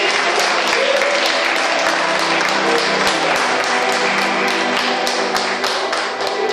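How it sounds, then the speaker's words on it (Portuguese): A church congregation claps together in steady, rapid applause during a sermon, a dense, loud wash of hand claps filling the room throughout. "dá uma salva de palmas para Ele e adore o nome dEle"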